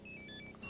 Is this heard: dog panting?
no